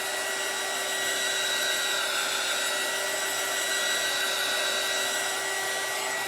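A small handheld dryer blows steadily on orange paint on a craft sign, a constant close whirring hum with a high whine and no breaks or talk.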